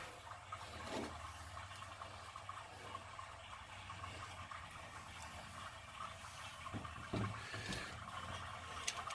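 Water runs steadily through a repaired valve and pipe fitted with SharkBite push fittings, a continuous low rushing flow with a few brief knocks and clicks, fairly close and moderately loud throughout.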